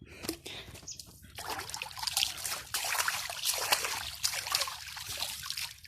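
A fishing net is rinsed in water, with trickling and splashing that come in irregular bursts of pouring and sloshing, close by and fairly quiet.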